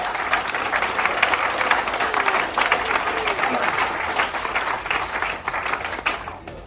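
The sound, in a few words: audience applause at a sales seminar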